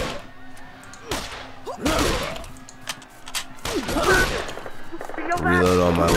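Wasteland 2 firefight with several sharp gunshot cracks and bursts spread irregularly, loud and close, mixed with shouting voices between the shots.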